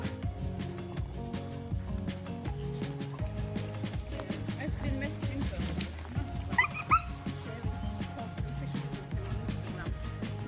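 A dog at the beach barks and whimpers in short yips, close by, over a busy background with people talking.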